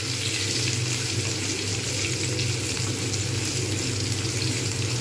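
Potatoes fry in a pan of hot oil, a dense, even sizzle that holds steady and fairly close for several seconds with no voices over it.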